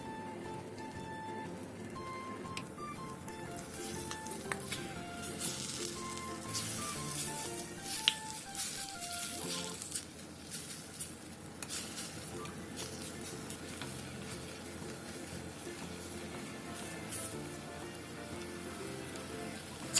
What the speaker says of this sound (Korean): 냄비에 참치캔 기름과 묵은지를 넣고 5분 정도 볶아주세요.